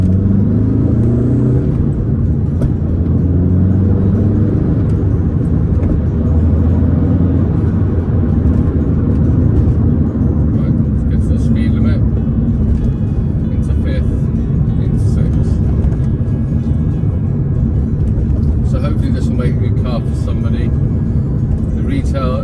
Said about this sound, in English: we're in second gear, we're slowing down a little bit. It's 40 miles an hour here.